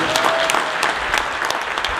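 A church congregation at a cathedral music Sunday in Kakamega claps steadily, a loud, close, continuous burst of many hands with a faint tone running under it.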